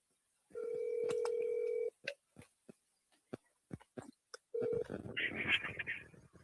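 A steady dial tone gives way to a run of short keypad beeps as a number is dialed, then a ringback tone starts and sounds over faint background noise.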